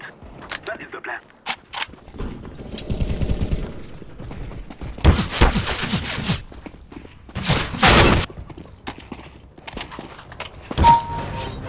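CS:GO gunfire rings out in sharp bursts and single shots amid game sounds, loud and close, with players talking between the shots.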